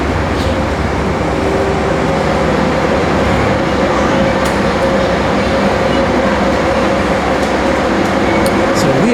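A steady, loud rumbling hum fills the Lorton, Virginia Auto Train station, continuous low machinery and rail noise with a faint tonal whine and no pauses.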